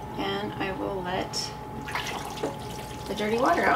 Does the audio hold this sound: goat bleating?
no